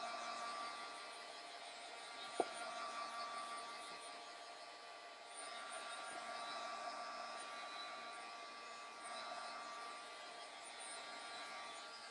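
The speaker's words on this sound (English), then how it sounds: "Now I want to dry it a little bit so that I can put a second color over top of it." A hair dryer blows steadily to dry paint on a craft page, giving a continuous broadband whoosh with one brief click early on, and no talk over it.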